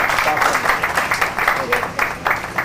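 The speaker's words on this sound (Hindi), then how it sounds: "तालियां बजा करके स्वागत भी करते" Wedding guests clap in welcome, a close, rhythmic run of applause bursts with voices talking over it.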